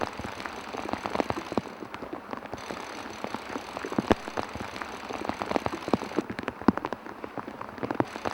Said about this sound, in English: the weather's changed from sunshine to pouring rain